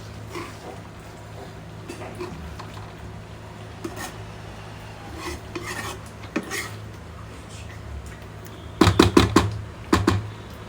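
A spoon scrapes and clinks against a pan while paneer butter masala is stirred, with soft rasping strokes throughout and a burst of louder metallic scrapes near the end, no talk over it.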